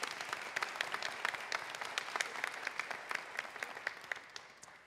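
An audience claps for an award recipient of the United Methodist Church, a steady patter of many hands, fairly faint and even across the room, with no talking over it.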